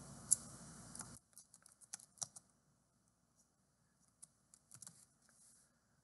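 Typing on a computer keyboard into a Salesforce search box: a faint, irregular series of quick key clicks, close and sparse, following a brief burst of background noise at the start.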